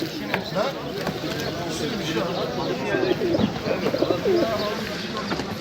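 Pigeons coo and chirp amid a busy bird market at Edirnekapı, with people talking steadily nearby throughout.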